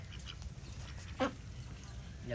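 Ducks give a single brief quack in a village yard, faint under low background rumble.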